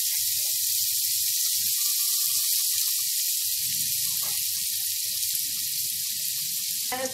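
Butter melts and sizzles in a pan for a pav bhaji tadka, giving a steady, bright hiss that runs unbroken throughout, with a few soft low clunks underneath and no talking.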